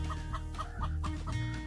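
Gallina pairal hen, a small dwarf Catalan breed, clucks in a steady rhythm of short repeated calls about every quarter second, close and clear over a low background hum.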